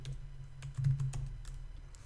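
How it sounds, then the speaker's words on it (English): Fingers type on a computer keyboard in a quick, irregular run of soft clicks and taps, close and quiet over a low steady hum, with no one speaking. "I'm gonna start typing in the name."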